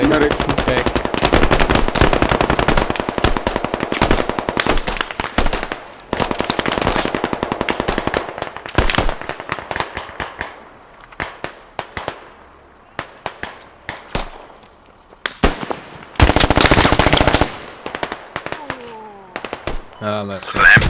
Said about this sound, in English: There's an MG in place.